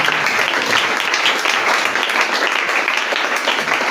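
Sustained applause from a church congregation during a French-language sermon, a dense, steady wash of clapping at close range that holds for the full stretch without a break.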